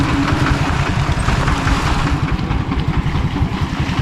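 A vehicle engine running steadily while driving in third gear along a rural road, a loud constant low rumble with a faint wavering hum, close and continuous with no speech.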